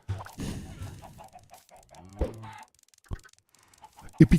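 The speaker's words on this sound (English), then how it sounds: "for Pete's sake, stupid chickens and their dumb eggs." Minecraft chickens cluck in short, clipped bursts near the end, while someone talks over a quiet background during a gameplay livestream.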